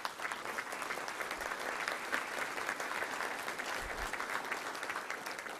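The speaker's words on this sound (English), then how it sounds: "Let's give them a round of applause" A luncheon crowd at the Little Rock Touchdown Club applauds guests, giving a continuous, even wash of many hands clapping throughout, moderately distant and steady.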